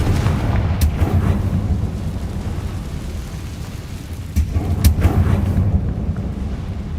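Confringo blasting spell explosions in the Hogwarts Legacy video game: sharp cracking blasts, two distinct bursts about four seconds apart, over a continuous low rumbling background.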